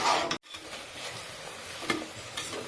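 Masala being stirred and sautéed in a pan for mutton kurma, a steady close hiss with soft scraping strokes and a couple of brief spoon knocks against the pan.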